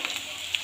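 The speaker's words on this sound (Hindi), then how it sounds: "यहाँ पे मैं आलू को फ्राई कर रही हूँ" Potato pieces fry in hot oil while cooking an egg curry, giving a soft, steady sizzle with small crackles close up.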